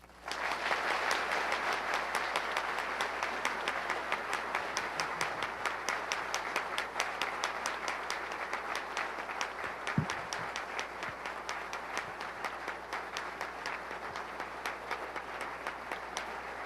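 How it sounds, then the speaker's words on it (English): Audience applause for the Corona program at a 1995 ceremony honoring the Corona pioneers: sustained, dense clapping from a large crowd, steady and loud throughout, with no talk over it. "A round of applause for the program."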